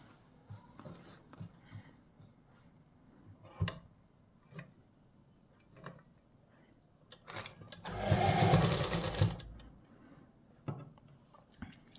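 A sewing machine stitches a kurta seam in one brief whirring run of about a second and a half. Scattered ticks and clicks come before and after it in a quiet room.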